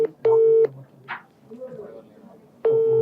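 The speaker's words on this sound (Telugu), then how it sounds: "అందుకే వాళ్ళకి ఫోన్ చేస్తాం, డైరెక్ట్ లైవ్ లో ఫోన్ చేసి ప్రయత్నం చేస్తున్నాం." Telephone keypad tones dial out for a live call from a Telugu news studio: two long, loud beeps, one at the start and one near the end, with faint voices and background noise in the gap between them.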